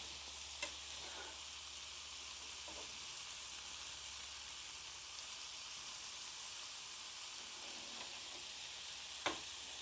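Meatballs fry in a pan with a steady, soft sizzle that holds throughout, broken only by a couple of faint clicks.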